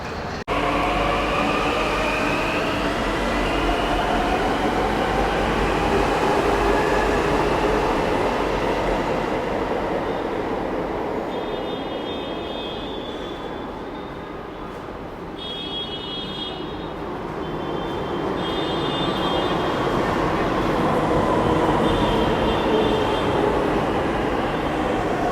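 A Delhi Metro train rumbles steadily through the station, loud and continuous, with faint high wheel squeals and brief electronic tones partway through as it arrives and runs on.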